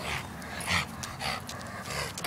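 A dog on a street walk pants in quick, soft breaths with faint whimpers, close but quiet, and no talk over it.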